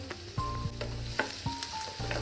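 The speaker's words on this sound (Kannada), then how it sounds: "ಈರುಳ್ಳಿ ಕೆಂಪಗಾಗೋವರೆಗೂ ಇದನ್ನ ಫ್ರೈ ಮಾಡ್ಕೋಬೇಕು" Onion and green chili frying in hot oil with mustard seeds, a crackling sizzle punctuated by repeated spatula scrapes and stirring knocks in an uneven rhythm, close and fairly quiet.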